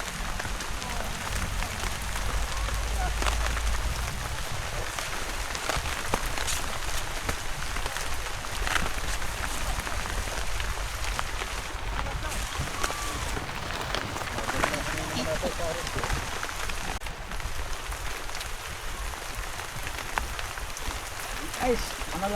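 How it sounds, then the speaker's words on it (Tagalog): Light, steady rain patters across the whole stretch as a broad, even hiss with no talk, falling on a rural harvest plot. "nakakanana naman tayo ng payok-payok na ulan"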